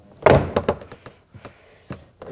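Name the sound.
plastic push pins popping off Nissan Murano rear door panel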